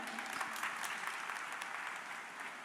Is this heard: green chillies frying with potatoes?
no